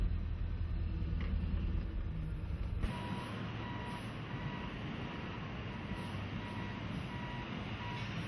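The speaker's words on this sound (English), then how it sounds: "Then the truck heads back into the pit for another load." Reversing beeps from a mine haul truck at a pit and crusher site, a steady faint alarm carried over heavy low engine rumble and broad wind-like noise, with no talk.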